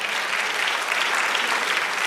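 A church congregation applauds during a sermon, a dense, continuous burst of clapping from many people that stays loud throughout.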